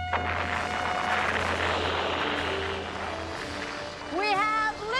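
A blast-off sound effect for a 1987 children's TV show: a sustained, loud, broad roar that thins out, followed by a warbling, swooping electronic tone and a brief voice at the end.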